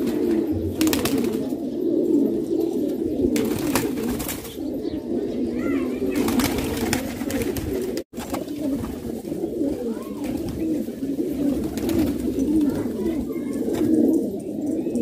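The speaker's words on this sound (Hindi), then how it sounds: "तकरीबन 50 कबूतर हैं दोस्तों, ये देखें जी।" Around fifty pigeons for sale coo together in a dense, continuous low murmur, with occasional wing flaps and rustles, and someone talks intermittently over the flock.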